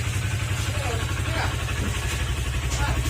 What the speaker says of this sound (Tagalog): yan yung tulog ng makina.